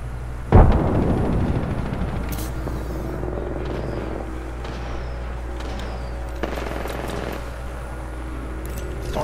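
A frag grenade detonates in an Apex Legends ranked match with one sharp, loud blast that rumbles off under steady engine-like drone, followed by scattered gunfire cracks further away.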